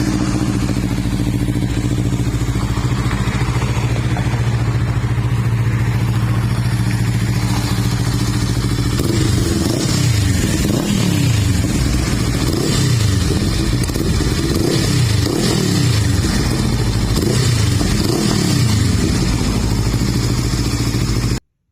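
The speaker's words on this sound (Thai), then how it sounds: "ฟังเสียงเครื่องยนต์ครับ" A 2023 Honda CL500 Cafe Edition motorcycle, nearly new with very low mileage, idles steadily, then its engine is revved in several repeated throttle blips that rise and fall, loud and close, with no talking.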